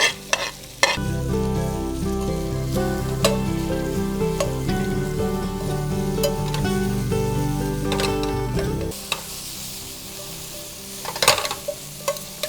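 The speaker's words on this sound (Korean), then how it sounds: "이렇게 해서 계속 볶아줍니다." Garlic, onion and scallion stir-fried in oil in a stainless steel pan over medium heat, a loud continuous sizzle punctuated by sharp spatula scrapes and clacks, easing off near the end with a few scattered clinks.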